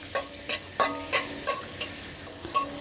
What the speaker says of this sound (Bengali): প্রথমেই আমি থেতো করে রসুনগুলো দিয়ে দিচ্ছি।